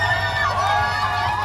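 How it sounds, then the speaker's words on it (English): Dense, steady crowd noise from spectators lining the NYC Marathon course, a continuous roar of cheering and shouting with no breaks across the short stretch. "Oh, the crowd is so incredible."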